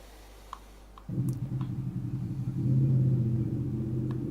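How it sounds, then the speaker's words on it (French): A motorcycle engine rumbles in the background, starting abruptly as a low steady drone and swelling louder midway before settling, with a few faint clicks beforehand. "Il y a une moto chez quelqu'un?"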